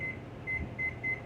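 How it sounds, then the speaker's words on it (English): A microwave oven timer beeps four times in an uneven series of short, high electronic tones, each distinct above a low kitchen hum with no talking. "we're gonna set the timer on the microwave"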